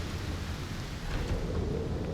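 Thunder rumbles with heavy rain in the video game ALOFT, a broad, continuous low roar under a steady wash of rainfall, with no talking.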